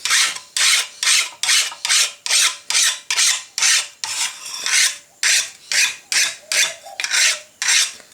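Hand file rasping across hardened lawn mower blade steel with a slightly decarburised surface, about fourteen steady back-and-forth strokes in even rhythm, loud and close with no talk.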